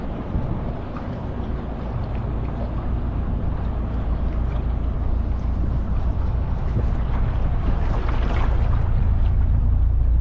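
Loud, steady engine drone and rushing water and wind from a dual-engine tour boat cruising near Hoover Dam, continuous and close throughout with no voices.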